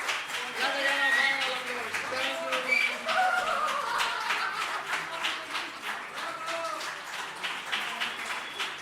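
An audience applauds at a live cabaret-style show, a steady dense patter of claps throughout, with voices and cheers mixed in beneath the clapping.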